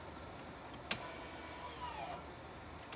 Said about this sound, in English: You can hear that working, that's the brake.